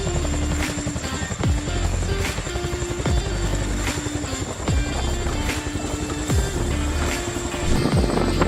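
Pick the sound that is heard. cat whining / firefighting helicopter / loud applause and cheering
firefighting helicopter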